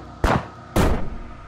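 Two loud, close gunshots about half a second apart in the glitchy horror parody game Crusty Proto, each a sharp crack with a short decaying tail.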